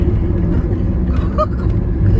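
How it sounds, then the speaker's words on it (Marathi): A truck carrying chickens drives past on the Samruddhi expressway between Mumbai and Shirdi, heard as a steady loud engine and road rumble from inside a moving vehicle. "कोंबड्या नेणारी गाडी बघा."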